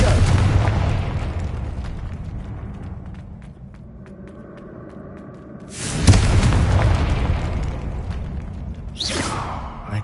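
A fire spell explodes in Hogwarts Legacy with a loud, deep booming blast that rumbles and fades, then a second heavy burst midway and a sharp whoosh near the end, all close and without speech.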